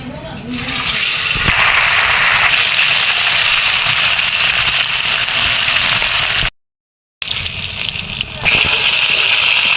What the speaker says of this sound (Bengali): ভালো করে মাছটা মেখে নিয়েছি এখন ভেজে নিব মাছটি